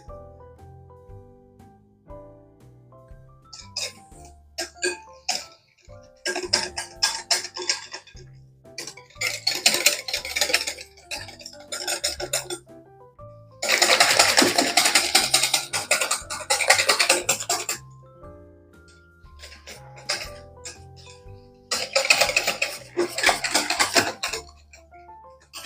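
A whisk rattling and clinking against a bowl of pumpkin pie filling mixed with spices and vanilla, in several bursts of fast scraping strokes separated by quieter pauses.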